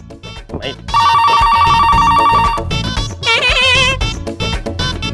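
A telephone rings insistently over a dramatic music score, its steady trilling bell going unanswered for several seconds in a Hindi comedy scene, with no voices heard.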